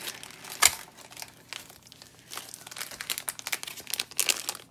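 A plastic-wrapped package from a Shein clothing and stationery haul is torn open by hand, with close, irregular crinkling and rustling throughout.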